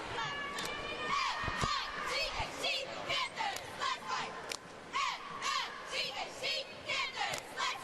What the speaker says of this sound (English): And at a timeout, the cheerleaders lead a cheer.